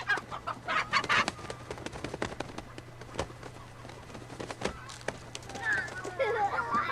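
Chicken clucking and squawking in a film scene before it is killed, agitated calls in short bursts at the start and near the end, with scattered clicks and knocks between and a low steady hum beneath.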